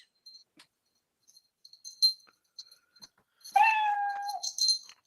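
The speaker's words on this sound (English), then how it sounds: "That's a cute meow." A cat lets out one clear, drawn-out meow, preceded by faint scattered clicks and rustles in an otherwise quiet room, with a brief softer chirp after it.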